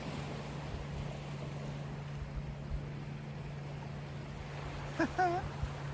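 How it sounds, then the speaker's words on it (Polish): A motorboat passes on open water, heard as a steady low engine drone mixed with wind and water noise. A brief voice speaks near the end. "o tam jakaś motorówka, może będzie na filmie"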